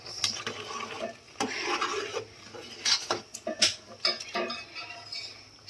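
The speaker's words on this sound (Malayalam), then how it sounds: "നമ്മളെ മക്രോണി ഇങ്ങനെ തിളച്ച് വരുന്നുണ്ട്" Macaroni boiling in a pot is stirred with a utensil, giving intermittent scrapes and clinks against the pot over a soft bubbling background, fairly close and moderately quiet.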